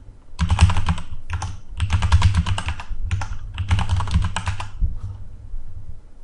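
Steady typing on a computer keyboard, entering a username and password, with bursts of rapid close keystrokes separated by brief pauses and no talking.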